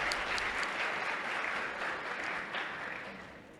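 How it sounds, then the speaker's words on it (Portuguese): Audience applause at a solar energy industry meeting panel, as a logistics task-force coordinator is introduced: dense, even clapping from a seated crowd that holds steady and then slowly fades toward the end, with no voices over it. "Salva de palmas para ele."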